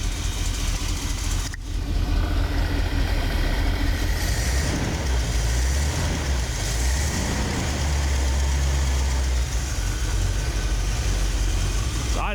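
Rebuilt Ford 460 big-block V8 idling low in a 1974 Ford camper special pickup inside a shop, a steady deep close rumble with a brief knock early on and no talking.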